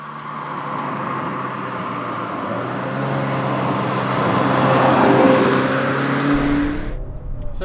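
A Peugeot 306 GTi 6 hot hatch engine hums steadily from inside the cabin, rising slightly as it accelerates, then settling, with road noise beneath; no talking.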